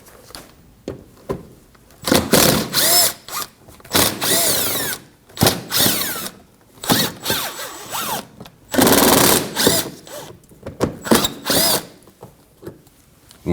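A power tool spins out 5.5mm fasteners on the front of a 2015-2024 Ford Edge during valance panel removal, whirring in repeated short bursts separated by brief pauses, close and loud.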